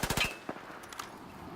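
Gunfire in the shooter game Battlefield 4: a quick burst of several rapid shots up front followed by a single sharper report, fairly close and punchy over a low background.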